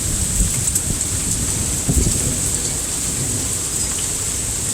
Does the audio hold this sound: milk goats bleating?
no